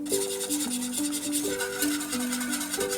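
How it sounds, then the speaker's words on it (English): Cocoa powder whisked into a water mixture for a chocolate raspberry cake: a steady, scraping, rhythmic rubbing close by, with a simple melody playing underneath. "I'll whisk it together to make sure that there are no lumps."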